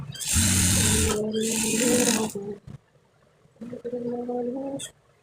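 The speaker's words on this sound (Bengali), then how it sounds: "খাড়া সাইডটা সেলাই হইতেছে" A sewing machine stitches the side seam of a kalidar panjabi in two close, loud whirring runs, pauses briefly, then runs once more.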